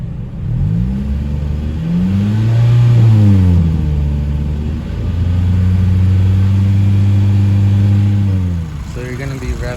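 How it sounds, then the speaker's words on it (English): Toyota Celica GTS with a 2ZZ engine, revved repeatedly in a driveway during a coolant flush, the note rising and falling twice, close and loud. "now I'm gonna go rev it up again."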